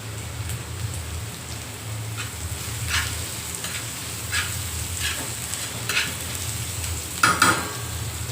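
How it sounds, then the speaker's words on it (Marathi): Chopped onion and crushed garlic fry in a pan for a bitter gourd dish, with a steady, loud sizzle throughout and occasional spoon stirring and scraping near the end. "कांदा परतवताना लसूण घालायचा आहे चार पाच पाकळ्या ठेचून घेतल्या"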